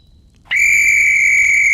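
A shrill signal whistle in the military video game ARMA 3 is blown, starting abruptly after a brief quiet moment and holding as one loud, steady, unbroken blast.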